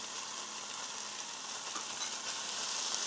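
Canned corned beef sizzles in a hot pan, its fat melting as it fries; a steady, close broadband crackle runs unbroken with no talking.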